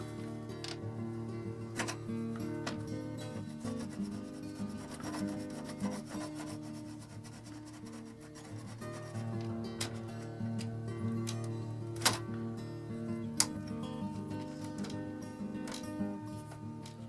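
Old cork being scraped off the back of model train track makes a steady, close rubbing and rasping sound with occasional sharp ticks and clicks over a constant low hum.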